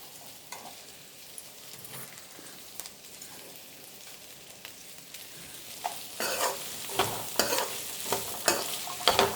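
Chopped carrots stir-fried in a pan for chikkulu curry sizzle softly while a spatula scrapes and stirs in intermittent bursts, growing louder and busier toward the end, no voices.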